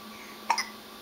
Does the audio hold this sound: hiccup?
yes